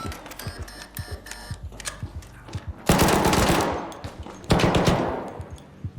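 Video game gunfire from Arc Raiders: rapid bursts of close shots crackle in quick succession, with two louder, denser volleys standing out partway through, with no talk over them.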